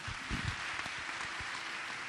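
A church congregation applauds with a continuous, fairly even wash of clapping and a few low thumps. No voices come through over it.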